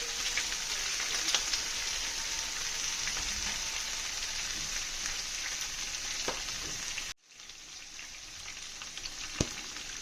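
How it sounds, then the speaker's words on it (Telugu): Ivy gourd pieces sizzle in hot oil with a tempering and curry leaves, a steady broadband frying hiss with small pops, briefly cutting out near the end before resuming. "కరివేపాకు కూడా వేసేసుకొని దొండకాయ ముక్కలు వేసేసుకుంటున్నాం."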